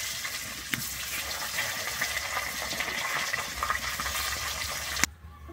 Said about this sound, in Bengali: আমি এইভাবেই কিন্তু মাছটাকে উল্টে পাল্টে ভেজে নেব।